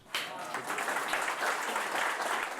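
A crowd aboard the steamship S.S. Sicamous applauds warmly, a sustained wash of clapping that starts abruptly and holds steady at moderate distance.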